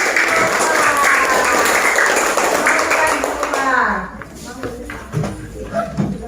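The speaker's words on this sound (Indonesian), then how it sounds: "berikan tepuk tangan untuk teman kita" Classroom of students clapping for a classmate, a dense crowd of hand claps for about four seconds that then thins out into scattered sounds and murmur.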